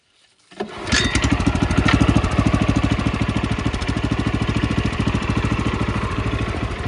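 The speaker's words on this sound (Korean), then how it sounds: "예, 시동을 걸고요." A farm tiller engine is started in a field being prepared as a cabbage bed. It catches abruptly and then runs loud and close with a fast, steady chugging beat.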